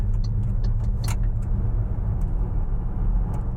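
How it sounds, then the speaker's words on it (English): A 2025 MG HS PHEV plug-in hybrid SUV moving along a road in its sportiest drive mode, giving a steady low road and drivetrain rumble with faint higher ticks and rattles over it. No one speaks. "let's take it out on the road and see how she drives"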